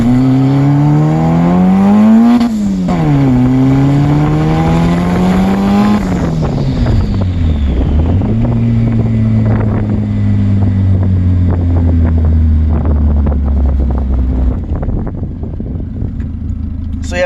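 A Honda D-series engine holds at the launch-control limiter, then revs rise and drop through several quick gear shifts, loud and close with wind rush before it fades away.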